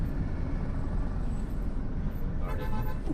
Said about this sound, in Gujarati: ટ્રાફિક આવી ગયો પાછો